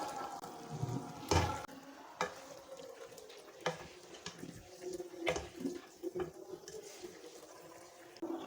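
Spaghetti being stirred and mixed with chili garlic sauce in a pan, giving soft, scattered scraping and wet clicking sounds with quiet gaps between them.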